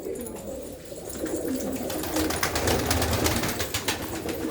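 Pigeons of several fancy breeds, including red birds with dark eyes and glossy golden-blue necks, coo softly amid a steady bed of flock noise, with murmured voices faintly underneath.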